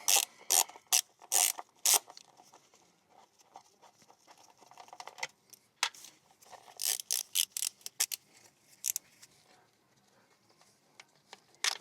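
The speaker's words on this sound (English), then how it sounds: "Now let's take the number 8 socket and remove all these screws." A hand ratchet with a number 8 socket loosens motorcycle cover screws during chain maintenance, sounding in bursts of quick, sharp close clicking separated by short pauses.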